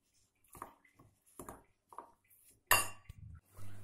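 Roasted spices for garlic pickle stirred in a metal pan, a run of light scraping and clinking strokes followed by one sharper, louder metallic clank, close and fairly quiet overall.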